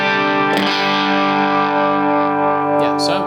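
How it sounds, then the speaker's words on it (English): An electric guitar strummed hard through an amp with the overdrive pushed up, a dense, sustained distorted chord ringing loud throughout with a couple of fresh strums near the start and end. "when I really give it a nice strum, that drive really comes through"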